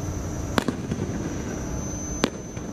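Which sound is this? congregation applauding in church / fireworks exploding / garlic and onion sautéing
fireworks exploding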